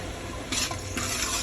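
A tomato, garlic and chilli paste sizzles in oil in a pan for pav bhaji, a steady frying hiss that flares louder in two short bursts as the paste is stirred.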